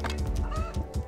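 A cartoonish chicken in the video game Donut County gives a quick burst of rhythmic, nasal clucks, close and clear, with a pulsing low beat underneath.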